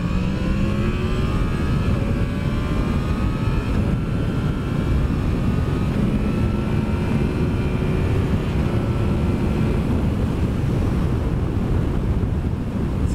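Motorcycle ridden at over 100 with a GoPro helmet mic: a constant, loud roar of wind buffeting and engine drone with rising tonal whine, steady throughout with no talking.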